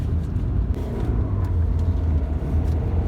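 A diesel Volkswagen Vento engine revs during a test drive as a low, steady rumble from inside the car, loud and continuous with no speech.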